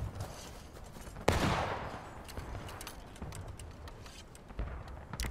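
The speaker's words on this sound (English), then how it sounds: "your best option of shooting at your enemy is volley fire" Musket volley fire in the Civil War game War of Rights: one sharp, loud crack opens a rolling, rumbling burst of shots, followed by scattered fainter pops and distant battlefield noise.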